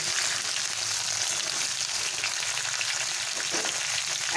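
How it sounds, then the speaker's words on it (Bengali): Potatoes and pointed gourd fry in a pan with a steady, bright sizzle heard up close, unbroken by talk, with a small clatter at the very end. "পটলটাকে দিয়ে আমি আলু আর পটলটাকে সুন্দর করে ভেজে নেব"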